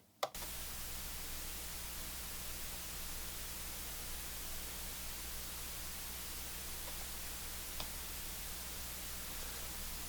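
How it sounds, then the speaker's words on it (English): A steady, even hiss from a Waves plugin's analog emulation fills the clip without changing, opening with a brief click and with no voices or music over it. "The hiss is not being attenuated with the vocal"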